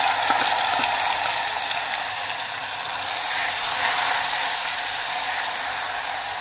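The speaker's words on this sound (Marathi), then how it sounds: "त्यानंतर यात खोबऱ्याचा मसाला टाकायचा आहे आणि तो व्यवस्थित तळून घ्यायचा आहे।" Coconut masala frying in a pan for a Marathi black-eyed pea curry, giving a continuous loud, dense sizzle with a few faint stirring knocks near the start, no talking.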